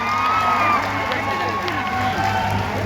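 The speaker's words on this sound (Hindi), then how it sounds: "एक बार जोरदार ताली बजाकर मुख्यमंत्री जी का स्वागत कीजिए।" A large outdoor crowd at a chief minister's public event in Jagdishpur, Bihar, cheers and claps in a loud, dense, continuous wash of noise.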